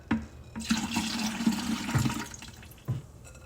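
Blueberry lemonade mixture being poured into a pitcher, a steady splashing liquid stream lasting a few seconds with a brief final gush, close and clear.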